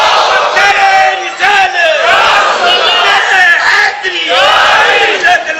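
A large crowd at a religious gathering roars a slogan back in unison, loud and near, in rolling waves of massed shouting.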